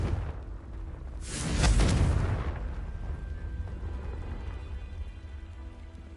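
A Confringo fire spell cast in Hogwarts Legacy bursts with a loud, broad explosive blast that swells and fades over a couple of seconds, then leaves a steady rumbling hiss like rain.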